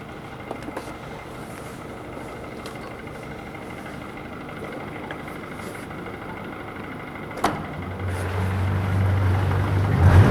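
A 2018 Yamaha 115 hp four-stroke V MAX SHO 1.8L outboard warms up at idle with a steady low drone that swells louder toward the end.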